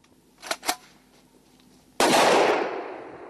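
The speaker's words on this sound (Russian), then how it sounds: "Предупредительный выстрел в воздух" Two faint sharp taps come first, then a single loud warning gunshot fired into the air cracks out in a forest and its echo rolls away over the next second.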